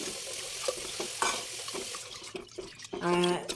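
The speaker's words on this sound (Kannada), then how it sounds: "ಆ ಹೆಸರುಬೇಳೆನ ತೊಳ್ಕೊಂಡು ಒಂದೆರಡು ಸಲ ತೊಳ್ಕೊತಾ ಇದ್ದೀನಿ" Moong dal lentils are rinsed in water in a home kitchen for millet pongal, with soft sloshing and stirring throughout and a fuller pouring, tap-like gush near the end, all fairly quiet.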